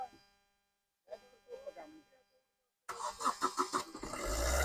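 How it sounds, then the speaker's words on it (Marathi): A car's engine cranks and catches, starting up after a few seconds of talk, then runs loud and close with rising revs; people speak before it fires. "आयला गाडी तर चालू झाली."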